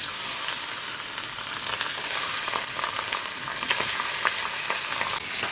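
Parshe fish fry in a small amount of oil in a non-stick pan, giving a continuous loud sizzle with scattered crackling pops and no talking.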